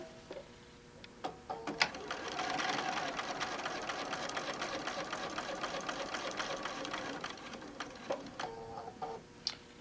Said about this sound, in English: One more stitch. There we go. Thank you, little machine.